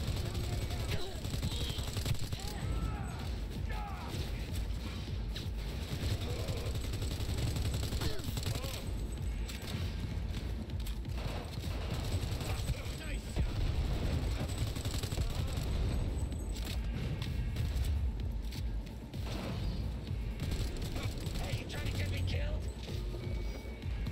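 Bursts of gunfire in the Cyberpunk video game, repeated rapid shots and mechanical clatter over a long stretch, with a voice talking at times.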